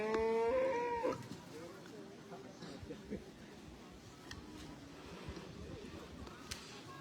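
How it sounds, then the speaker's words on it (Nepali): Two bulls clash in a village bullfight in Dhading, Nepal, with a loud, drawn-out moo at the start, followed by scuffling, thuds and crowd noise with scattered voices in the background. "राजेन्द्र गोदारको माले गोरु र राजन गुरुङको काले गोरुको बीच घमासान महासंग्राम भइरहेको तपाईले देख्न सक्नुहुन्छ"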